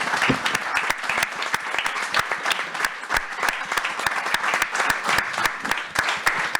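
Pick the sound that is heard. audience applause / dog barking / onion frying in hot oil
audience applause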